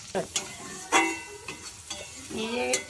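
Spices, including chilli, cumin and coriander powder, sizzle as they are stirred in hot oil, with close, irregular scraping strokes over a steady frying hiss.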